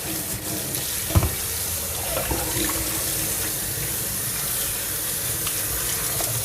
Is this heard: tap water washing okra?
yes